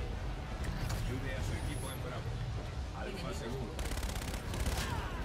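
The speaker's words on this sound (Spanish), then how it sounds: "Me está disparando el Warden." Rapid gunfire from the video game Call of Duty: Infinite Warfare comes in dense, overlapping bursts of automatic shots. The bursts are loud and continuous and run under game effects and talk.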